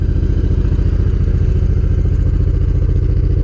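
A Honda VTX V-twin motorcycle idles while warming up, a loud, close, steady lumpy thump with an even rapid pulse and a little mechanical clatter.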